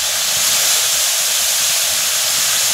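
Chopped tomato hits chicken frying in spices, making a loud, steady, broad sizzling hiss close by that carries on without a break and without talk.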